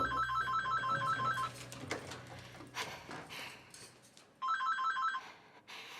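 Telephone ringing in two electronic bursts of rapid trilling, near and clear, with rustling and room noise in the quiet gap between the rings.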